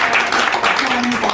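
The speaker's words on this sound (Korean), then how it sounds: "여러분 다시 한번 따뜻한 박수" An audience at a school launch ceremony gives brief, dense applause, a close wash of many hands clapping with a faint voice underneath.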